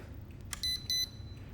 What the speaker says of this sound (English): If you put in 1, there's a 1 beep.